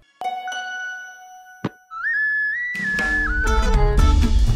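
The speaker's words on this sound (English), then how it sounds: "you accidentally gave Winston a rat whistle" A small whistle blown in a children's cartoon gives thin, sliding tones that rise and fall, then music-like layered sounds build up underneath, loud and close, with no talking.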